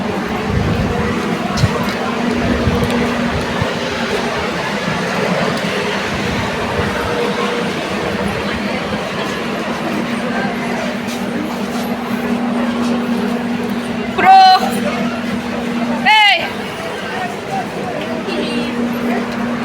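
A train passes on the railway near a station in Dumka, a steady loud rumble with brief squeals and clatter, while people talk over it throughout.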